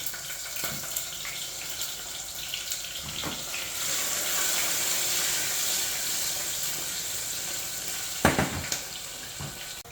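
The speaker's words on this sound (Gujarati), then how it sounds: "તેલ આવી ગયું છે તો હું અંદર હું ભીંડું નાખી દઉં." Okra dropped into hot oil in a pressure cooker for masala bhindi, a steady broad hiss of sizzling frying with a few clattering knocks of the vegetable and utensil.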